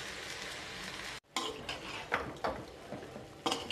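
Egg fried rice sizzles gently in a pan over a low flame, a steady close frying hiss broken by a brief silence, then stirred with a few scraping utensil clinks.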